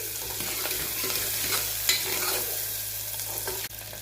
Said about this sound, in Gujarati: એકાદ મિનિટ માટે ડુંગળીને આપણે તેની અંદર સરસ સાતળવા દઈશું